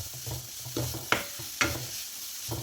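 Banana ball filling stirred in a pan, a soft sizzle with scraping spoon strokes and two sharper knocks against the pan, close and quiet, no talking.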